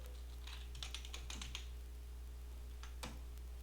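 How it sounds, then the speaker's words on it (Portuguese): Typing on a computer keyboard with an Enter press: a few quiet, scattered key clicks in small clusters and one sharper keystroke near the end, over a faint steady hum in a quiet room. "Deixa eu dar um Enter aqui para continuar, né?"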